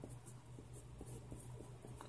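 A TWSBI Eco fountain pen with a medium nib moves across paper, making a faint, steady scratching with small rhythmic strokes over a low background hum.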